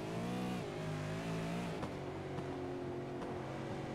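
A V8 SuperSeries race car heard onboard, its engine roaring close and steady, with pitch dropping as it shifts and then climbing again, alone without voices.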